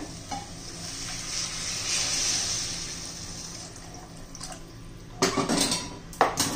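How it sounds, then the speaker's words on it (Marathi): Hot water is poured into a pan of sprouted moth bean curry, a rushing hiss swelling over a low simmer, then a few loud metallic scrapes and knocks of a spoon against the pan near the end. "आपण त्याला आता गरम पाणी घालणार आहोत."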